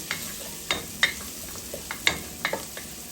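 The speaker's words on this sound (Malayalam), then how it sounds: "അപ്പോൾ ഗാർലിക്കിനെ നന്നായി നമുക്ക് മൂപ്പിച്ചെടുക്കാം കേട്ടോ." Garlic fries in butter in a pan for egg fried rice, with a soft steady sizzle broken by several sharp spoon scrapes and clinks as it is stirred, close up and without talk.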